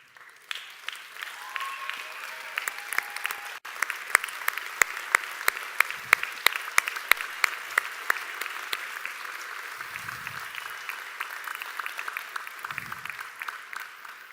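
Graduates at a university science graduation ceremony give a hearty round of applause, a steady, moderately loud patter of many hands with sharp individual claps up close, sustained for the whole stretch, with a few low thumps underneath.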